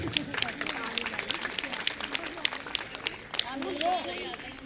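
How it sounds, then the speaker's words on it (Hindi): Loud, dense applause from a large audience at a Brahma Kumaris golden and pearl jubilee celebration, sustained clapping filling the whole stretch with voices mixed in. "जोरदार तालियां"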